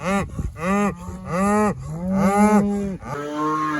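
Cattle on a corn farm bellow in a series of loud, drawn-out moos, several long calls following one another closely with no talk over them.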